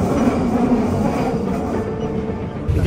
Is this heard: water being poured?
no